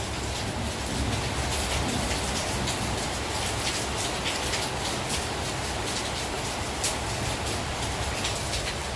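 Steady, heavy rain falling without pause, a dense, even hiss of drops drumming on surfaces.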